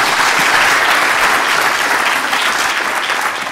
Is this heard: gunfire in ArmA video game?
no